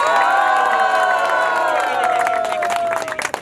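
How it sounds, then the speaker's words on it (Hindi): Guests at a 25th wedding anniversary celebration cheer, whoop and clap loudly to welcome the couple, with a sustained tonal musical sound over the crowd noise and voices shouting near the end. "जोरदार तालियां के साथ इस कपल का वेलकम किया जाए"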